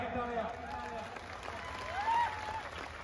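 Crowd applause at an open-air kusti wrestling ground in Chandur, a steady wash of clapping with a swell near the end, mixed with crowd noise and a commentator's voice over the top.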